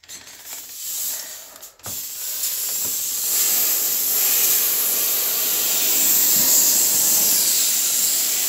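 Goodman's 10 in 1 steam cleaner releasing a steady, loud hiss of steam after a couple of brief sputtering bursts, with no talking.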